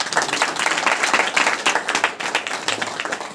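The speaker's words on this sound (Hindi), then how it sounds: "बोलो प्रभु यीशु मसीह की ताली बजाकर प्रवेश" Steady rhythmic clapping from a congregation at a church worship meeting, loud and continuous with no voices over it.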